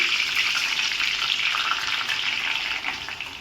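Cumin and mustard seeds crackling in hot oil with coconut paste for a tempering, a steady close sizzle with fine spattering that fades slightly toward the end.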